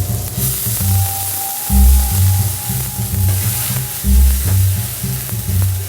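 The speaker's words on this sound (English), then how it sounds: "a little bit of fresh chopped garlic. Saute that lightly." Fresh chopped garlic sautés in a pan with carrot, a soft sizzle under a loud low mechanical hum that swells and repeats in a steady cycle, close and continuous.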